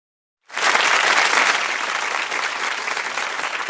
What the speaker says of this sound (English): So another round of applause for that.